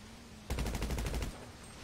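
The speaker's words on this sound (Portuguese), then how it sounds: "Dei tiro no de trás lá." A rapid burst of automatic gunfire rattles in a video game roleplay, roughly a dozen quick shots in under a second, loud against a faint background hum.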